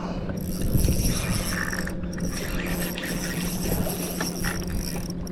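Fishing reel drag ratchet clicking in rapid continuous bursts while fighting a redfish from a kayak, heard close and fairly loud with no talk.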